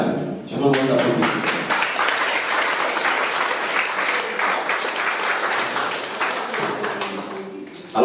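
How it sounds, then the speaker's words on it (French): An audience applauds a team at a French community event on territorial resilience, a dense, sustained round of clapping with some voices mixed in, fairly loud and steady before tapering at the end. "Je vous demande d'applaudir."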